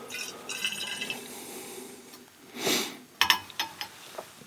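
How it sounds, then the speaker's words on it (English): Liquid is poured out of a container during a home chemistry experiment with paint thinner and alcohol, a short gurgling splash followed by a few clinks of glassware, close by and with no talk. "Okay, so we pour everything out, and then we add a little bit of water."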